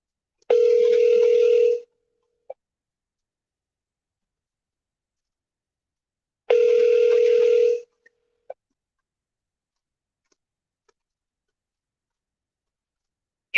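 A telephone keypad tone sounds twice, each a clean steady beep about a second long, separated by silence and followed by faint clicks as the call is forwarded to voicemail.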